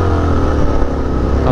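A motorcycle engine runs loud and close after being started, a steady rumbling idle with a slight rise at the end.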